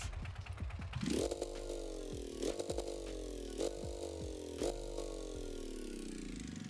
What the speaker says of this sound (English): we have a single cylinder engine working just fine